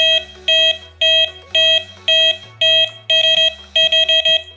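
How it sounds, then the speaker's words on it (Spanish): A Delkim fishing bite alarm in programming mode sounds a run of loud, sharp electronic beeps in short bursts, some in quick triplets, with a low steady tone beneath. "Vamos a escuchar tres bip, una pausa, un bip"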